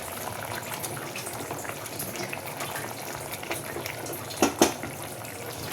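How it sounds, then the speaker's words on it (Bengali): Pabda fish go one by one into a pot of simmering potato broth, giving a steady watery bubbling and sizzle with a couple of soft plops near the end. "আলু সিদ্ধ হয়ে গেছে, তা মাছগুলো এবারে দিয়ে দেব"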